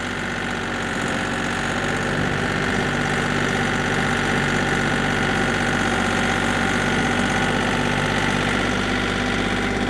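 A Kioti CK3510 compact tractor with a hydrostatic transmission runs at a steady, loud, close engine drone with constant vibration for ten seconds, with no break and no voices.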